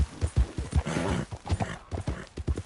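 Horse hooves clip-clop in a steady trotting rhythm, close and fairly loud, as a mount moves along in the game Red Dead Redemption 2, with a brief snort or whinny mixed in.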